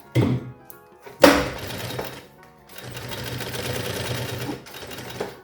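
A sewing machine stitches a fabric cosmetic pouch in short runs, a near, steady mechanical whir that starts and stops with brief pauses and a clunk between bursts.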